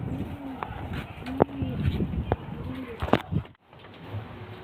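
A pair of Madrasi pigeons coo in short low bursts, close by, with a few sharp clicks and knocks mixed in and a brief drop to near silence toward the end.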